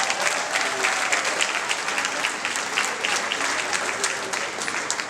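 An audience at a gathering in Lagos applauds, with dense sustained clapping from a crowd filling the room, close and steady throughout.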